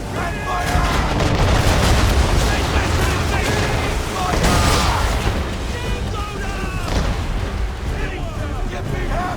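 Ship cannons fire in Assassin's Creed III during a naval battle, deep booming blasts rolling one after another with heavy low rumble, while shouted orders break through the barrage at moments.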